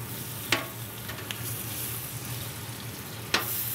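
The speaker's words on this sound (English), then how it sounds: "You stir in the cheese." Cheddar stirred into spiralized zucchini with bacon on a hot griddle, a steady low sizzle with two sharp scraping clacks of a utensil.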